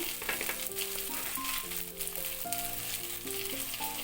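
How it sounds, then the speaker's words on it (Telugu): Tomatoes sizzle steadily in a pan over a medium flame while cooking with salt, turmeric, chili powder and green chilies for a moong dal tomato curry, a continuous close frying hiss under background music. "టమాటాలు మగ్గాలంటే మనం కొద్దిగా మీడియం ఫ్లేమ్లో పెడదాము"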